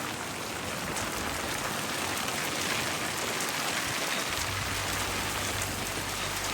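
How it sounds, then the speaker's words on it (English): Heavy monsoonal rain pours down steadily in Fernley, Nevada, just after a tornado warning expires. The downpour is a dense, continuous roar of drops drumming on surfaces, with a low rumble joining near the end. "We're just going to get some heavy monsoonal rains now."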